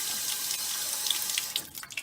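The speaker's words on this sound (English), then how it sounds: "and I fill it up with ordinary water" Ordinary jar being filled with water from a household tap: a steady hiss of running water with bright splashing and trickling as the level rises, fairly quiet and close, no talk.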